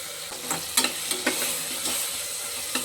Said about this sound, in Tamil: தக்காளி வெங்காயம் இந்த அளவுக்கு வதங்கிடுச்சு